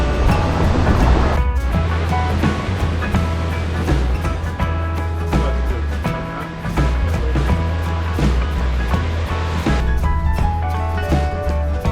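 Ocean surf rolls into a bay at Icod de los Vinos on Tenerife, a loud continuous wash of breaking waves with gusts of wind noise across the microphone and no voices.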